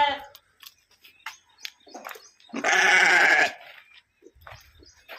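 A grazing sheep gives a single loud bleat lasting about a second, close by, between scattered rustling and soft handling noises outdoors.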